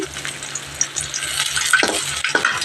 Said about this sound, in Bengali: এই দেখো তার জন্য বেগুন ভাজা করে নিচ্ছি।